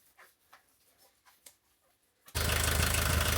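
A VW T3 van engine under restoration cranks briefly and then catches, jumping to a loud, steady running roar that fills the rest of the moment after a quiet stretch of faint handling noises.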